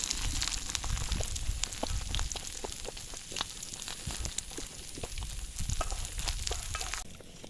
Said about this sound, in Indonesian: Goreng asinnya